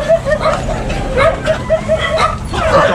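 Many dogs in a house sheltering hundreds of dogs in An Giang bark and yip repeatedly and close by, a dense overlapping chorus with some whimpering mixed in.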